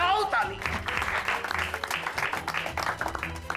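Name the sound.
clapping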